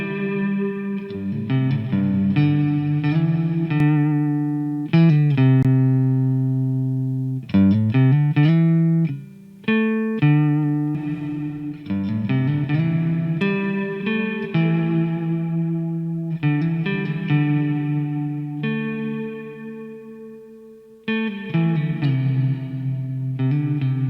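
A sustained, heavily processed synth or guitar tone with long reverberant tails and echoes, shifting notes continuously and loudly with no talking.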